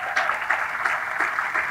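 A conference audience applauds after the sponsors are thanked at a DevOps and open source event, with dense, steady clapping from a crowd.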